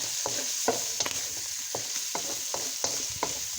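Shrimp fried rice with eggs, vegetables and fried onions, stirred in a hot sizzling pan: a steady close sizzle under repeated rhythmic scrapes and taps of the spatula, no voices.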